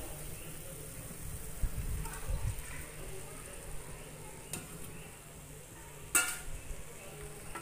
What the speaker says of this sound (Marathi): कोळंबी मसाल्यामध्ये व्यवस्थित परतून घ्यायची आहे।